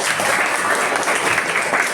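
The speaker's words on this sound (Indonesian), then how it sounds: "Ada tepuk tangan untuk pembelajaran hari ini." Ninth-grade students in an Indonesian language class clap together at the end of a lesson, a steady, dense patter of many hands with no talking.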